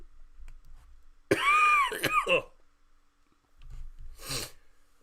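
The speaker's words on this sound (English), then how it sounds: "I do apologise, by the way, about all the coughing." A harsh, throaty cough burst rings out close by, followed a couple of seconds later by a shorter second cough, with quiet breathing between.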